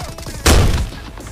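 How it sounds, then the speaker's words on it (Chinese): A grenade launcher fires at a bunker in a shooter video game, one loud blast with a short echoing tail. "那继续用榴弹炮轰炸"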